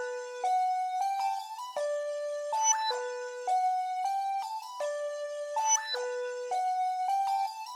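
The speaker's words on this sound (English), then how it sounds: "This is a triangle perk that I reversed." A reversed triangle percussion sample in FL Studio, part of a trap remake, repeats bright, swelling metallic tones in a steady looping pattern of short stepped notes, faint and alone.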